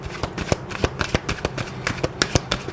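Tarot cards are shuffled by hand in quick, crisp riffling bursts, close and clear with no talking.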